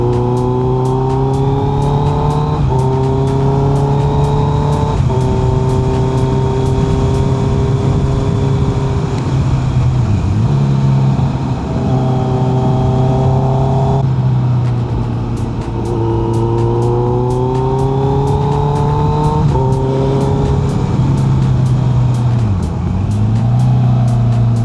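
A motorcycle is ridden along winding village roads. The engine drones loud and steady from the rider's position, with repeated gear shifts and rises and falls in revs through the bends, under heavy wind noise.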